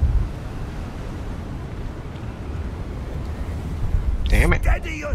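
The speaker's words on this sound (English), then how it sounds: "Whoa, nice windy." Steady wind whooshes across an outdoor area in the Hogwarts Legacy video game, a broad continuous rush that swells near the end as a voice exclaims over it.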